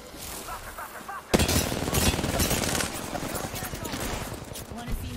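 Dense automatic gunfire erupts in a game firefight in Apex Legends, with rapid bursts running continuously after a sharp onset, loud and close, while character voices call out over the shooting.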